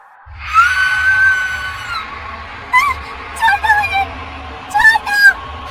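A woman's scream in a Hindi horror story, one long, loud shriek followed by several shorter cries over a low, throbbing dramatic music bed.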